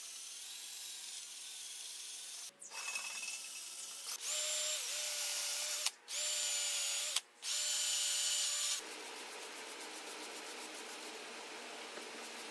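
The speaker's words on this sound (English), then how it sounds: "using the wire wheel with the cordless drill" A cordless drill with a wire wheel whirs steadily while stripping paint from an old Schwinn road bike, revving up and down and briefly stopping twice, buzzing loudly up close before winding down to a low hum.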